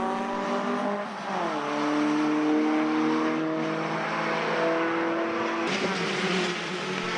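An F3000 race car and other Formula cars race at Mondello. A loud, sustained engine drone holds steady pitches, then dips as the car shifts and climbs again, with a sharp change near the end as it passes close by.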